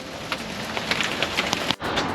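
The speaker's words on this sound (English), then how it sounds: "This rain won't give me a break" Steady, dense rain falls outdoors in Florida, a close, continuous hiss with scattered drips and patters and no voices over it.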